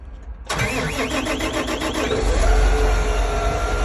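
A 2020 John Deere 8400R tractor engine cranks with a rapid whirring starter for a moment, then catches and settles into a loud, steady idling rumble.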